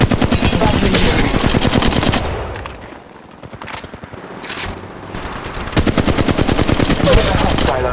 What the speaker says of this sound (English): I'm taking the shot. Contact. Battling the enemy.